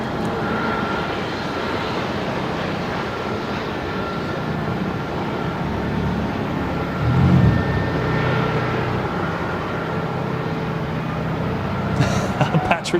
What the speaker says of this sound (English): Scoot, clear for takeoff. The 787-9er heading home to Singapore